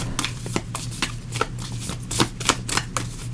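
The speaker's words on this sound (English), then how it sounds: "let me just give these a little bit of a shuffle here" Tarot cards being shuffled in a quick series of soft riffling bursts, close by, with no one talking.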